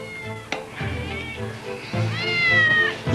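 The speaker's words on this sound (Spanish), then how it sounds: "¿Qué es? Un gato." A cat meows in an animated children's series, a drawn-out cartoon cry heard alongside talking voices and background music.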